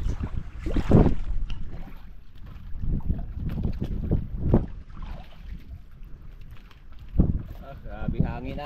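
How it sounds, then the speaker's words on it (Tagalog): Strong wind buffets the microphone in loud, irregular gusts, with people talking now and then beneath the rushing noise. "Grabe hangin na. Nag-umpisa na naman. Palakas ng palakas"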